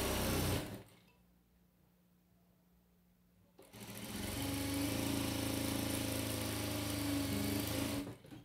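A sewing machine runs steadily for about five seconds as it stitches and reinforces a seam on a fabric crib bumper. A short earlier burst is followed by a quiet pause. The machine's loud, even hum fills the close room.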